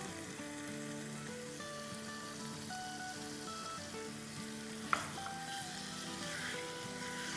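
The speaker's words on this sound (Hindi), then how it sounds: "कीमे को हिला लेंगे और कीमे में हम डाल देंगे 4 टेबलस्पून चॉप की हुई अनियन" Minced meat sizzles steadily in a hot pan while being stirred, with chopped onion going in, a continuous close frying hiss with a brief clatter near the middle and no voices.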